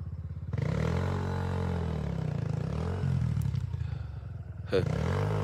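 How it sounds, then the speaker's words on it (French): A motorcycle engine runs close by while riding downhill, its low rumble rising and falling as it revs and moves, with a brief clatter near the end. "Là, vas-y, descends avec la moto."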